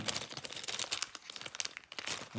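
A plastic parcel bag crinkles and rustles continuously while a package of Lego and parts is unpacked, close and fairly quiet, with irregular bursts of crackling throughout.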